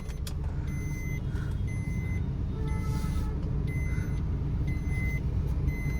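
A vehicle's reversing alarm beeps in a steady repeating rhythm on a busy road, with engine and traffic rumble underneath and no talking.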